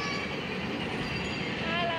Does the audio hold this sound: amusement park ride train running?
yes